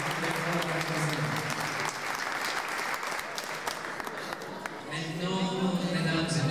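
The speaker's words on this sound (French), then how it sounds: "On applaudit très très fort." A seated audience at a student environmental forum in Taza applauds loudly and continuously, and a voice starts speaking over the tail of the clapping.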